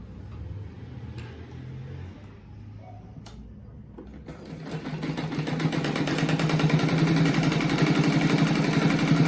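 A sewing machine stitches an oval rug made from reused fabric, starting after a few quiet handling sounds and settling into a loud, fast, even mechanical whir that runs steadily to the end.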